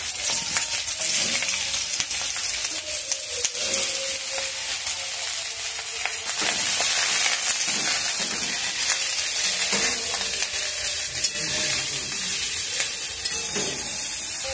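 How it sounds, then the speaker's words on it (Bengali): Steady, loud crackling sizzle of chopped ridge gourd and green chilies frying in hot oil in a wok, with occasional stirring scrapes and no voices throughout. "ঝিঙে ভাজার জন্য কড়াই তেল দিয়ে দিয়েছি। তেলটা কি গরম হয়ে গেছে, এবার কি ঝিঙে তুলে দেবো।"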